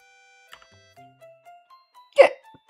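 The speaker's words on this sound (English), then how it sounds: "I wonder if I should celebrate once I reach 100 hiccups." A single sharp hiccup from a streamer, close to the microphone, breaking through faint sustained tones near the end of an otherwise quiet stretch.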